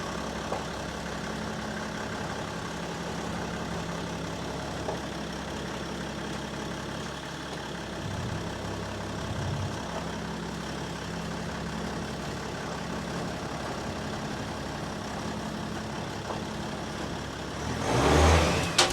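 An M57 US Mail Van custom turbo race van idling and rumbling steadily as it moves around a yard, with a brief louder burst of engine noise near the end.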